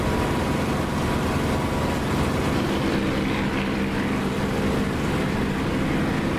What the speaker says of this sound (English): you'll hear the lovely open air prop wash sound that you get with an open canopy